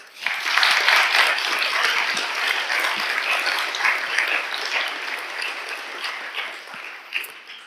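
Audience applause for an astrophysicist about to give a talk on black holes, a dense, steady clapping that swells quickly, holds for several seconds and then gradually thins toward the end.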